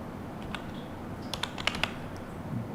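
Light typing on a computer keyboard, a few scattered soft clicks then a quick cluster of keystrokes, faint and close with no talking.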